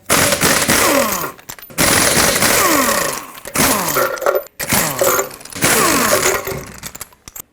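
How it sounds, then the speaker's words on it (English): Lug nuts spun off a 2012-2014 Ford F-150 rear wheel with a 21mm socket on a power tool, four loud, close, rattling bursts separated by short pauses. "remove all 6 of your lug nuts"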